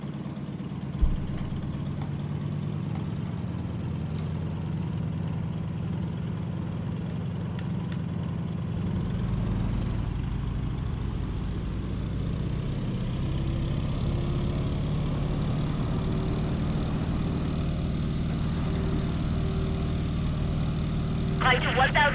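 Propeller airplane engine in Microsoft Flight Simulator revving up for takeoff, a steady loud drone that deepens and grows heavier partway through, with speech at times over it.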